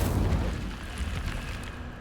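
Fiery burst of an Incendio spell cast in Hogwarts Legacy, a dense, rumbling whoosh of flame with low booming energy lasting a couple of seconds.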